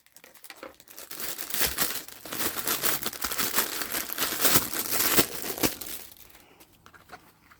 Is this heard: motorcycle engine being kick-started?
no